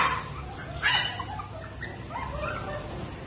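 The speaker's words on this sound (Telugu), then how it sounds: "Lab female puppy, gold colour, premium quality." A golden female Labrador puppy in a pet shop barks and whimpers close by, with short yips and a sharper bark burst near the start over low background noise.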